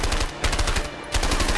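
Rapid bursts of automatic gunfire from a shootout in the video game A Way Out: loud, close, rhythmic repeated shots in three quick bursts with tiny gaps between them.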